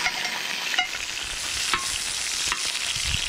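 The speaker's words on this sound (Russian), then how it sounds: "На нем мы сейчас будем обжаривать картошку." Potatoes frying in carrot-sesame oil on an outdoor saj by a river, a dense, close hiss of sizzling with a few sharp clicks and scrapes as they are stirred, no voices.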